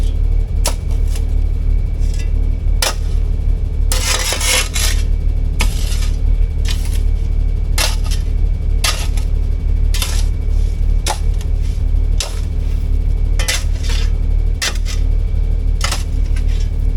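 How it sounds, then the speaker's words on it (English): A shovel scrapes and chops into dirt in a front yard, clearing about four inches of ground for pavement. Repeated short, crisp scraping strikes recur every second or so, close and loud, with no talking. "I'm gonna shovel some away from here because we need 4 inches for pavement"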